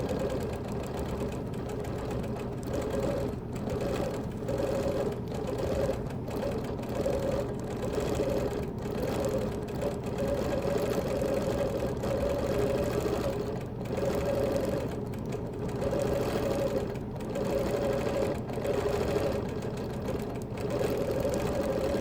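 A sewing machine quilting a Baltimore album quilt runs in a steady, continuous whir with a rhythmic mechanical pulse, close and even throughout, with no voices.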